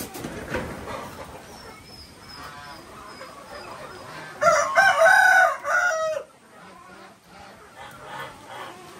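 A rooster crows loudly and close, one long drawn-out cock-a-doodle-doo rising above quieter background voices and clucking.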